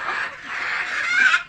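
A large domestic rooster weighing 2.5 to 3 kilograms gives one sustained, fairly loud, strained call lasting over a second. No voices accompany it.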